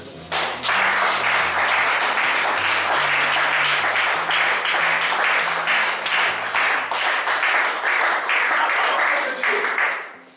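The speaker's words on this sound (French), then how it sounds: "Est-ce qu'on peut acclamer notre Dieu?" A church congregation applauds and cheers in acclaim of God, loud sustained clapping filling the room for about ten seconds, with voices and a held musical tone beneath before it fades out.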